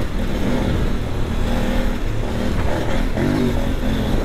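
KOVE 800 Adventure motorcycle cruising in third gear, its engine a steady, loud drone that holds an even pitch throughout with slight wavering, close to the rider with wind rushing around it.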